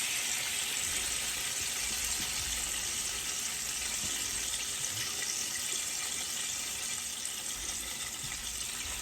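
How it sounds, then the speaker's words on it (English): Steady, continuous rush of water added to a hot pan while cooking a sauce for steak, a broad hissing wash that stays level and fairly loud for the whole stretch, with no talk. "now to the same pan, I'm going to add 1/4 cup of the water"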